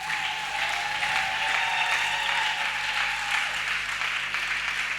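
A church congregation applauds the Lord in a dense, continuous roar of clapping that holds steady throughout, with a faint tonal hum underneath.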